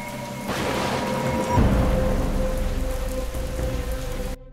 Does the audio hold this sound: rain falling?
yes